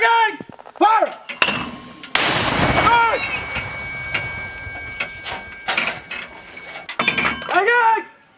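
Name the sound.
M2 Browning and M240 machine gun fire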